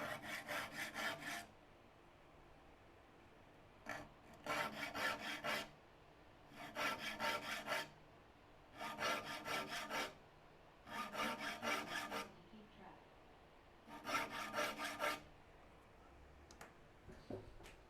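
A file rasps across the teeth of a hand saw in six rhythmic bursts of quick back-and-forth strokes, each lasting about a second or two, separated by short pauses, close and fairly quiet.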